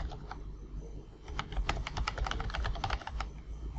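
Fingers tap out a short run of keystrokes on a computer keyboard while entering a label in QGIS mapping software, quick light clicks close by in a quiet room with no talking.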